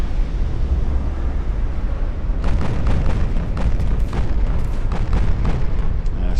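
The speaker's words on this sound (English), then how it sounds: "That torpedo is going to hit." A torpedo striking a warship during a large fleet battle in the Ultimate Admiral: Dreadnoughts naval video game: a low rumble, then a loud run of heavy booming blasts and crackling detonations.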